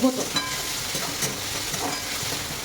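Tomato with spices fries in a pan for egg bhurji, giving a close, continuous sizzle with scraping stirring strokes through the short stretch.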